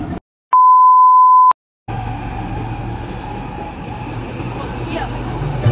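Inside an Istanbul metro train, a loud electronic beep tone sounds for about a second, followed by the steady low rumble and hum of the moving carriage with faint background voices.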